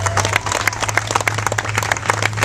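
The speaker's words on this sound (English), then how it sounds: "Give a huge round of applause to these two amazing pioneers." A crowd applauds loudly and steadily, dense clapping rising and falling slightly in a sustained burst with no voices over it.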